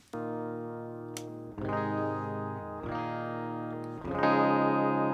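Clean, unprocessed DI electric guitar chords strummed one after another, each ringing out bright and dry with no other sounds.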